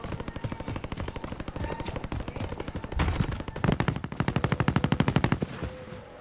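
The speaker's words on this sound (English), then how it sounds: "I hear gunshots really close by." Rapid automatic gunfire in Call of Duty, continuous machine-gun bursts that grow louder and closer toward the end, with no talking.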